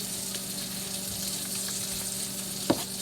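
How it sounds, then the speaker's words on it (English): Andouille sausage and onions sizzling in a gumbo pot, a steady even frying hiss heard up close with a single small pop near the end and no talking. "you hear that andouille cooking"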